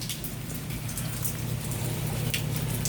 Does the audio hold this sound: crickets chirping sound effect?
no